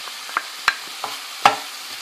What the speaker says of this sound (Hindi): अब मैं इसमें गोश्त डाल के भूनूंगी